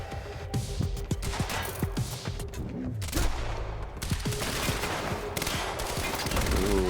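An Advanced SMG fires in Quantum Break, a rapid submachine-gun rattle in several bursts. The shots are dense and fairly loud, with clatter and impacts mixed in.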